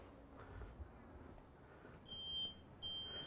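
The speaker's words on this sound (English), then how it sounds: "that photoelectric alarm has got a different sounding horn on it" A photoelectric smoke alarm horn in a smoke-filled aquarium test sounds as a piercing high-pitched tone in two short bursts over a steady background hiss.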